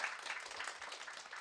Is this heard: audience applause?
yes